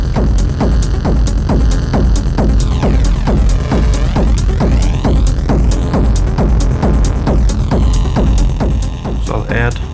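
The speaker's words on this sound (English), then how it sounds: "a delay with a very short delay time to give it a bit of flangy character" Sustained synth pad passed through a very short delay, giving a flanging character: a dense, loud, pulsing chordal texture with steady rhythmic throbs and sweeping, whooshing comb-like tonal shifts rising and falling throughout.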